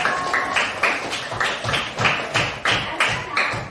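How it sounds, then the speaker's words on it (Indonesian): Classroom group giving a round of applause for the third presenting team, clapping in a steady rhythmic beat of sharp, close claps repeating about three times per second. "Kasih tepuk tangan dong untuk kelompok 3"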